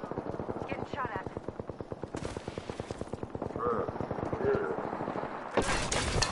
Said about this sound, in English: Opening fire. Getting shot at.